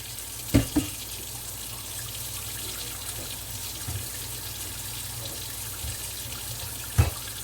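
Warm water running from a kitchen tap during cooking, a steady faint stream with a couple of brief clunks near the start and end.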